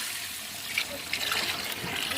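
Water is poured into a pot of raw curry with green chillies, a steady, soft splashing pour lasting the whole moment.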